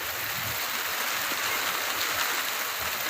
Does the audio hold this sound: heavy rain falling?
yes